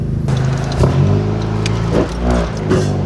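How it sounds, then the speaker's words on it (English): Honda Civic fitted with a PRL short ram intake, its engine droning and revving in waves with a breathy rush of intake air, steady and fairly loud inside the moving car, with no talking. "so you guys can hear the turbo, well, the air noise that it makes"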